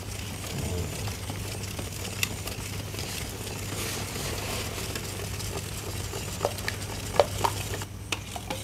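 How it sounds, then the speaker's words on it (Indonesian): Steady mixing of a batter made from half a kilo of wheat flour and a chicken egg, a continuous wet swishing texture with a low hum beneath and a few sharper knocks near the end. "Kita aduk."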